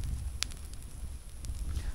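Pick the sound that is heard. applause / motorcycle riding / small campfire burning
small campfire burning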